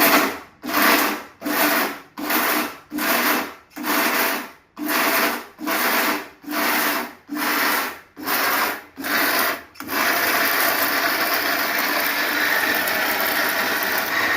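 A mixer grinder grinds churma in eleven short pulsed bursts, its motor whirring on and cutting off in a regular rhythm, then runs in one continuous steady whir for the final seconds.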